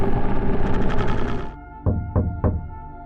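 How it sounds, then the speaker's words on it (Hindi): Three sharp knocks on a car's back seat window, evenly spaced and close, following a dense musical passage that cuts off. "बैक सीट की खिड़की पर किसी के दस्तक करने की आवाज हुई।"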